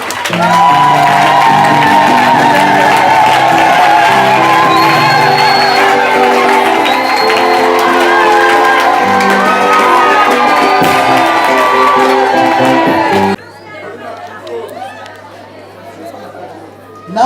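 A church congregation cheers and shouts in praise of the Lord, a loud sustained crowd roar with whoops and chatter that cuts off abruptly, leaving a quieter murmur of voices.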